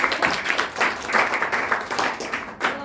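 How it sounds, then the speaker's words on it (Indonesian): A short burst of applause from a small group in a classroom, steady scattered clapping that holds for a few seconds with a little background chatter. "Boleh tepuk tangannya untuk kelompok 1."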